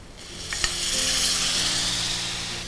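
Tomatoes sautéing in a pan with chili powder and salt for Maharashtrian moong dal and lauki bhaji, a loud, close, continuous sizzle with a brief clink of utensil near the start.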